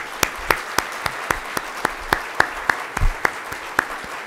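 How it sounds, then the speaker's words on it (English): Scattered claps from a small group at a State of the City event, steady and fairly sparse, with a few sharper claps standing out close by. "Let's go ahead and give them a round of applause."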